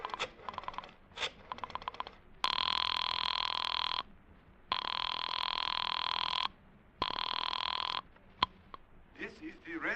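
A telephone in a radio drama rings in repeated long electronic bursts after a number is dialed, each ring lasting over a second with short gaps, preceded by brief clicks and followed by a voice.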